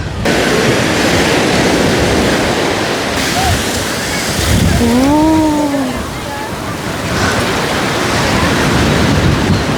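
Sea waves wash steadily onto the beach at Thiruchendur, a broad, continuous surf roar with light wind, and a brief voice-like tone rises over it midway.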